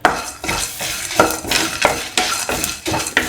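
A salted mixture of fennel seeds, coriander seeds, peanuts and Kashmiri chilies is stirred in a pan with rhythmic scraping strokes about twice a second, close and loud over a light sizzle.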